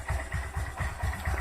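A warmed-up Suzuki GS150R motorcycle engine idles at a low, even rhythm, a steady close putter of regular pulses with no talking.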